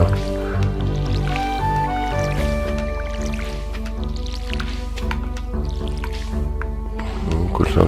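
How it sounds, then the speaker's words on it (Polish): Water pours into a watering can in the farming game Stardew Valley, a steady liquid fill with drips and squishy splashes over a constant background music bed, at a fairly loud, even level. "woda w konewce."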